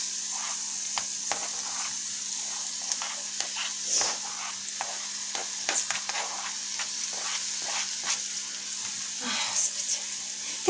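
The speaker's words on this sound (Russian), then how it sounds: "А здесь поджарим гальпажан." Eggplant frying in a pan gives a steady bright sizzle with scattered pops and stirring clicks throughout, close and moderately loud, with no talking.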